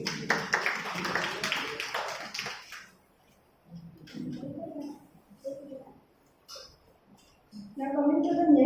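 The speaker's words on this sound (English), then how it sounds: "Please have a big round of applause for ma'am." Audience applause closing an expert lecture on intellectual property, a dense patter of many hands for about three seconds before fading, followed by scattered speech and movement in the hall.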